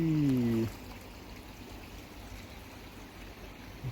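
Water draining out of a Bakki shower steady, low trickling and pouring with a soft continuous wash, faint and distant, briefly led in by a short tonal hum before settling into an even flow.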